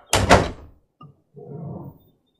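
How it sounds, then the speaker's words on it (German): A door in a radio crime drama is pushed shut with a heavy thud. A short click follows, then a longer rattling scrape as it is locked, all close and with no talking. "Schließ die Tür ab."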